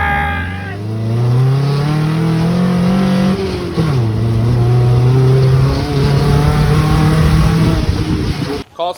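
An off-road rig on a trail during a Trail Hero night-wheeling run, its engine revving hard and climbing in pitch, dipping briefly and then holding a loud, strained drone before cutting off abruptly at the end; some voices talk faintly in the background.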